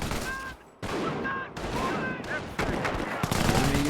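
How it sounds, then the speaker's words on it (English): An MG emplacement machine gun in Company of Heroes fires loud, rapid bursts separated by brief pauses, close and dense, with a voice speaking over part of the firing. "An MG emplacement is an excellent defense against attacking infantry."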